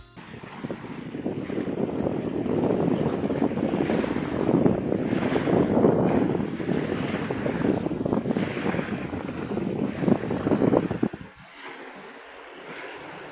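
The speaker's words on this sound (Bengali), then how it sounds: "শুনতে পেলেন কিরকম বাতাস আর কিরকম পানির সাউন্ড" Strong wind gusts across the microphone beside a river at a riverside park in Bhola, with rushing water and lapping waves roaring steadily before dropping sharply near the end.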